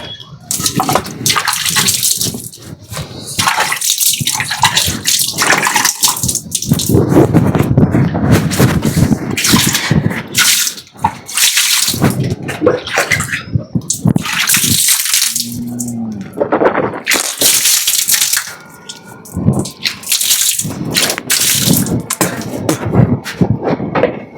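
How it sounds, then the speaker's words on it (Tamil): Water runs steadily from a tap as hands are washed in a home kitchen before a meal of chicken pakoda, a broad continuous splashing rush with a few thumps, filling most of the clip. "அப்பா வந்து கையெல்லாம் கழுவிட்டு வராரு"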